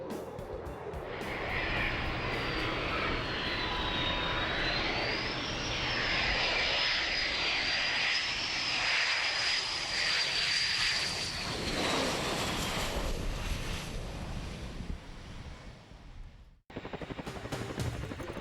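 An F-18 Hornet fighter jet roars past at an airshow, its loud, sustained engine noise swelling and sweeping in pitch as it passes close by, then cutting off abruptly near the end.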